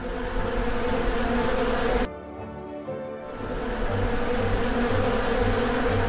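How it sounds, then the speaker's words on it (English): A swarm of bees buzzing, a dense loud continuous drone close by that briefly drops out for about a second before returning at full strength. "A buzzing swarm of bees."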